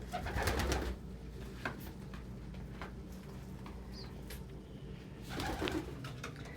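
Pet pigeons or doves cooing softly while feeding together as a flock, with low repeated coos and light rustling at close range, a louder burst at the start and again near the end.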